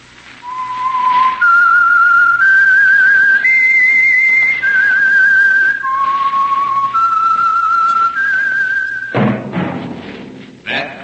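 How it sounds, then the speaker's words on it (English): A whistled signature melody, the theme signal of the old-time radio detective drama The Whistler, sponsored by Signal Oil: a loud, clear whistle stepping through a rising and falling tune, followed by a short thump near the end. "That whistle is your signal for the Signal Oil Program, The Whistler."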